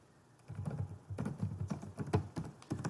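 Steady computer keyboard typing in a quiet room, a rapid irregular patter of key clicks that runs throughout, close and clear with nothing else heard.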